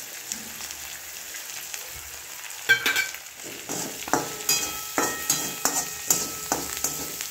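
Peanuts with salt and turmeric fry in oil in a pan for upma, a soft sizzle broken by a series of sharp scraping stirs that come in a quickening rhythm, close and without speech.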